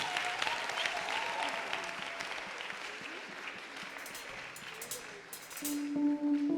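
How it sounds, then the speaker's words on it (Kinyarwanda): A church crowd claps in a steady wash of applause at a choir worship event, swelling again near the end, with a faint tone sounding underneath. "dukomere Imana amashyi menshi cyane"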